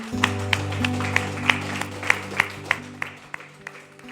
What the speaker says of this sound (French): On peut applaudir notre Seigneur.